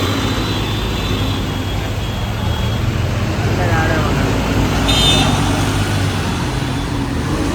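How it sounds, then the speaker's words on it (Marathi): Heavy traffic in a jam on an expressway, heard as a constant low rumble of idling and creeping vehicles around a truck, with a faint high tone and people talking over it. "किती ट्रॅफिक पूर्ण ट्रॅफिक जाम सगळं डोकं दुखी आहे"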